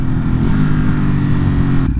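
A 2022 Ducati Hypermotard SP supermoto engine revving hard coming out of a bend, a loud, throaty, sustained roar with a rough pulsing texture that cuts off abruptly near the end.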